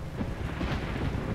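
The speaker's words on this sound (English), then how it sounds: "And a thunderstorm." Thunderstorm in Euro Truck Simulator 2 on a foggy drive, a low, continuous rumble of thunder with steady rain-like hiss, heard alone without talk.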